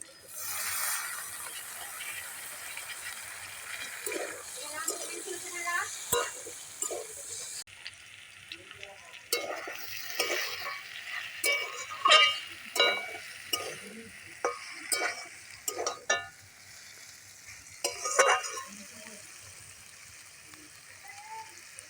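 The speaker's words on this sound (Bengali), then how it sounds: "এবার ভালোভাবে এগুলোকে ভেজে নেব। এবার দিয়ে দেবো কুচানো টমেটোটা।" Spices fry in a pan with chopped tomato, giving a steady close sizzle broken by repeated scraping stirs, while a voice talks quietly now and then.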